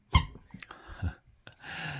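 A few short, high squeaks from a toy sound in quick succession, close and sharp, separated by brief quiet gaps.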